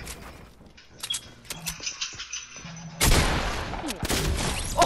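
Gunfire in Fortnite, scattered shots early on and then a dense, loud barrage of rapid fire through the second half.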